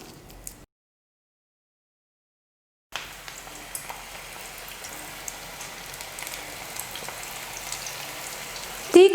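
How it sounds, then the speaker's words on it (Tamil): Spoonfuls of bread snack batter drop into hot oil. After a brief silent gap, a continuous crackling sizzle sets in and grows slightly louder toward the end. "இப்போ கலந்து வச்சுருக்கிற கலவையை வந்து கொஞ்சம் கொஞ்சமாக எடுத்து எண்ணெயில் போட்டுக்கலாம்."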